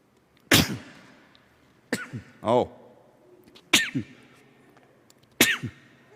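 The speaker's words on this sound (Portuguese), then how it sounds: "Está bem molhada essa tosse" Four separate harsh, wet coughs, spaced about a second and a half apart, with a short throaty gasp after the first few; close and fairly loud.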